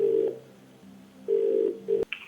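Telephone ringback tone on a call being connected on a TV quiz show, with repeating steady tone bursts and a brief click at the end, no talking.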